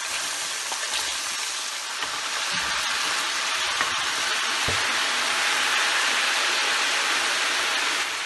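Chicken wings deep-fry in hot oil for BBQ wings, a dense, even, rushing hiss that stays loud and constant with only faint occasional pops and no talking.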